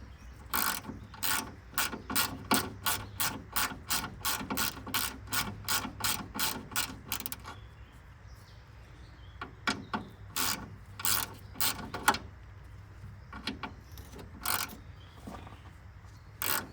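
Ratchet wrench clicking steadily as a bolt is turned on a 1966 Chrysler Town & Country, a fast regular run of sharp pawl clicks, then a pause and slower, irregular bursts of ratcheting, close and loud with no talking.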